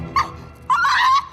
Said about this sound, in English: a French Bulldog whose horrendous howling